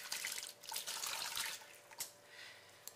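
Liquid for rainbow bagel dough is poured into a mixing bowl, a close splashing trickle with small drips and bumps, continuing for a few seconds without talk.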